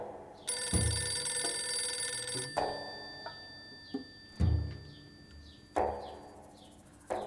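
A telephone rings in repeated bell bursts, loud at first and then recurring at intervals, in an indoor drama scene with no speech.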